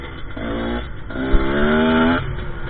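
A GPX TSE 250R motorcycle engine runs while being ridden, a close, smooth buzzing hum that rises in pitch in two short pulls between shifts, steady and alone without talk.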